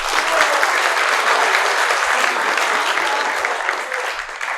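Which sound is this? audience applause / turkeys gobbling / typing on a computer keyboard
audience applause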